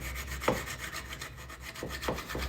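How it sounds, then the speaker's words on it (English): Wooden axe handle having its kerf cleaned up after head mounting, a few close rasping, rubbing strokes on wood over a low background hum. "we're cleaning up the kerf, because after we mounted the head"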